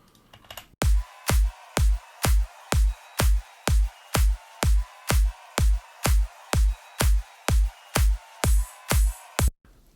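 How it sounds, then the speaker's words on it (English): A basic soloed drum channel from a large Ableton project plays a steady beat of punchy hits, about two per second, loud and alone with no talk, ending in one final sharp hit. "Pretty basic drums"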